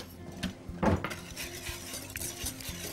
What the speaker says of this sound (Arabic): كده، ونقلب.